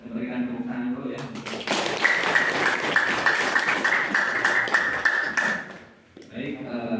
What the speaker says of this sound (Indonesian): Berikan tepuk tangan dulu ya.